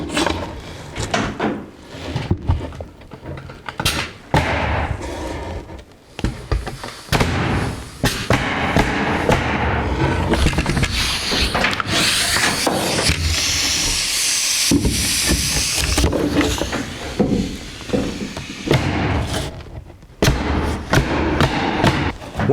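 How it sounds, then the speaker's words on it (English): Staples are driven through OSB plywood into a 2x4 while framing an attic access box, heard as a run of sharp thumps and hissing tool bursts, with scraping and knocking of wood between shots. "I'm going to staple through the OSB plywood here into the piece of 2x4"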